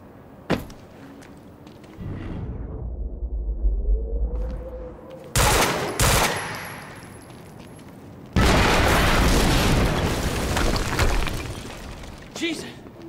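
Video game Quantum Break combat: a loud blast and bursts of gunfire break through, with shattering and door-like bangs, a long roaring explosion wash near the end, and voices talking between the hits.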